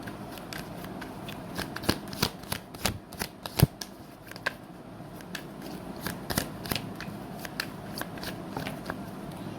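Tarot cards are shuffled and drawn by hand: a quiet sequence of crisp riffles, slaps and snaps, irregular in rhythm and close by, with no voices over them.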